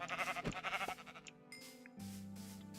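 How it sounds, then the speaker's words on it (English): A light gray sheep in Minecraft gives a couple of wavering bleats close up, followed by a quieter game tone with soft background sounds. "You're the light gray sheep."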